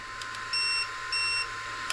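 Electronic beeps come from an RC car's gyro while its settings are changed: two sustained high tones, evenly spaced, over a steady background hum.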